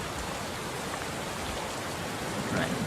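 Steady rain pours down in dense, even hiss, with Unreal Engine 4 dynamic weather, loud and continuous with no pauses or voices.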